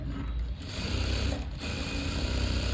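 A sewing machine stitching a puff sleeve runs continuously and close, a steady mechanical whir with a brief pause in the middle, no voices.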